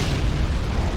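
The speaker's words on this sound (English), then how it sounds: "big explosions from those tanks" Tank explosions in the Men of War: Assault Squad game, set at Stalingrad in 1943: a loud, sustained low rumbling blast that fills the whole second with no voices.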